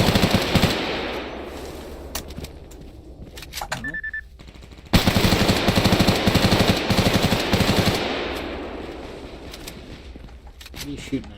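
Heavy automatic gunfire crackles through a S.T.A.L.K.E.R. GAMMA firefight, rapid bursts near and far stopping and starting, with a brief beep and a loud renewed volley midway.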